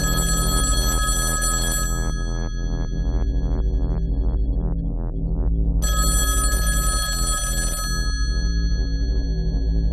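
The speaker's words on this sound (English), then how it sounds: "are you going to answer the phone?" A telephone bell rings loudly and continuously in repeated electronic trills with a steady pulsing rhythm, close and clear, filling the whole stretch without any voices.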